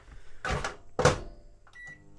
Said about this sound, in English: Microwave running